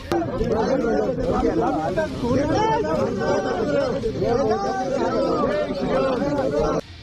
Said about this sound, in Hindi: वो लोग चुप होने के बजाय और जोर जोर से नारे लगाने लगे